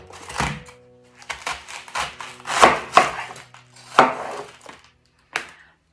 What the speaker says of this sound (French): Donc un chou blanc bio que je vais couper en 4 dans un premier temps.